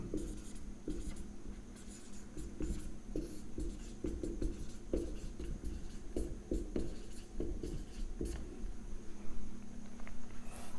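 Chalk or marker writing on a classroom board during a maths lesson on cube roots, with steady scratchy strokes and taps repeating for about ten seconds, close and fairly quiet, with no talking.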